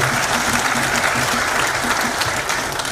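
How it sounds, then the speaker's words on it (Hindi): A crowd at the inauguration of Atal Sadan in Indore applauds in welcome of Chief Minister Dr. Mohan Yadav, a loud, sustained and dense clapping that fills the hall evenly from start to finish, with a faint low hum underneath. "चाहता हूँ तालियां बजाकर जरा स्वागत करें"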